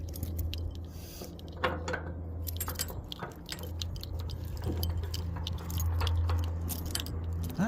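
Metal keys jangle and click in a string of sharp, uneven rattles close by near a truck, with a steady low engine hum underneath.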